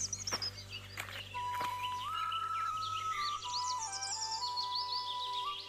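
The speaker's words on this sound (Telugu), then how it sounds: "ఆ పిట్ట చూస్తున్నారు కదా ఎంత బాగా అరుస్తుందో" A bird calling on a village morning, with scattered sharp chirps and a sustained whistled song, fairly faint and distant over a low steady background hum.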